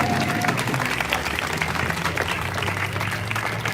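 Crowd at a Daunte Wright protest rally clapping and applauding together, a dense steady patter of many hands that carries on without a break and keeps an even level.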